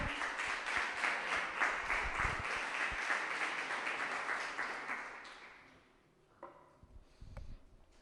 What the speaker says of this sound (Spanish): Un aplauso al Señor, por favor.